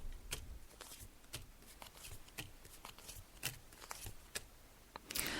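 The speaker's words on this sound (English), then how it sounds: "So I'm just shuffling the cards now." Tarot cards are shuffled by hand in quick, regular riffles and soft slaps, close and fairly quiet, with no talking over them.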